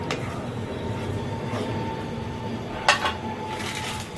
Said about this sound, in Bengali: নাড়িয়ে দিচ্ছি।